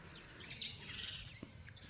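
Faint birds chirp outdoors near a feeding spot, with scattered high tweets over steady quiet background noise.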